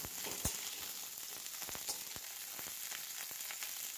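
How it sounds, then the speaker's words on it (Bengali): Steady sizzle of cauliflower frying in oil over lowered heat, with occasional sharp pops and crackles scattered throughout, close up and without any talking. "ফুলকপিগুলোটাকেও কিন্তু ভালো করে ভেজে নিতে হবে"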